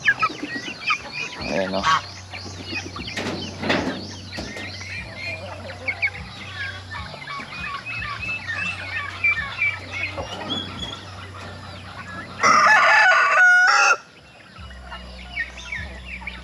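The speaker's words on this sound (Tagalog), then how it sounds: "Medyo malaki-laki na rin yung mga broiler natin dyan." Broiler chickens on a farm cluck and call in bursts, close and lively, with a louder squawking flurry near the end and a brief spoken word.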